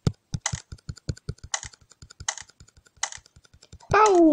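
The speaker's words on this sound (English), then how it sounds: "Sorry for the tapping noise." Rapid tapping on a computer keyboard during a Roblox Skyblock game session, crisp clicks in an irregular rhythm close to the mic, with a voice breaking in briefly near the end.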